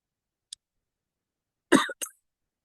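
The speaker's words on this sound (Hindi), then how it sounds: "सॉरी यार मुझे खांसी है थोड़ा सा" A man coughs against silence: a tiny click, then a sharp cough followed quickly by a second shorter one, close and fairly loud.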